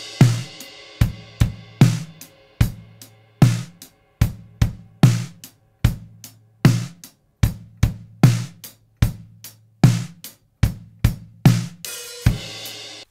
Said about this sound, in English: So I have these drums here which sound like this.